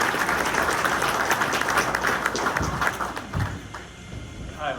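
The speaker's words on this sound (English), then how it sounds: "Let's give them a round of applause." A crowd applauds at a community event, the clapping dense at first and then thinning out and fading over a few seconds.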